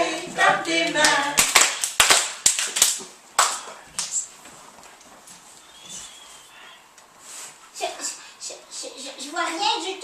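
Hands clap repeatedly in a loose rhythm along with a French children's song, sharp bursts in clusters over sung voices and children's speech, busier in the first half and tapering off later.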